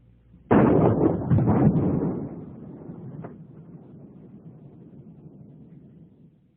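A shotgun fires number 9 birdshot into ballistic gelatin: one loud blast with a rumbling tail that decays over several seconds, heard alone with no talk.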